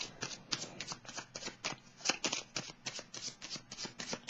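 Small oracle cards being shuffled by hand, a quick run of soft papery riffles and flicks repeating steadily at close range, quiet and with no voices.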